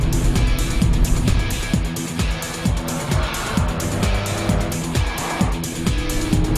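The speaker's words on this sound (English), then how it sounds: "Then the supercharged V6 3-litre TFSI engine kicks into life." A powerful supercharged 3-litre V6 TFSI engine in an Audi S4 revs hard and shifts through gears repeatedly, loud and close, with sweeping pitch rises as it accelerates.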